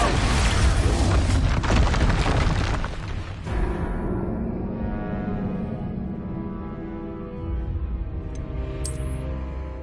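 In the Hogwarts Legacy video game, an Expulso spell explodes with a loud broadband blast lasting about three seconds, then a rumbling tail slowly fades, ending with a faint high ring.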